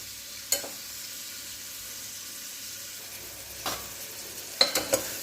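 Onions sauté quietly in a pan with a low, steady sizzle, broken by a few sharp scrapes of a spoon against the pan.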